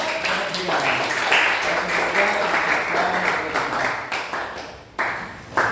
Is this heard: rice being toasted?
no